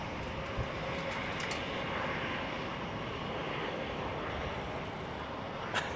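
An Airbus airliner arriving at Heathrow in windy conditions, a steady, fairly distant broadband engine roar holding level throughout with no talk.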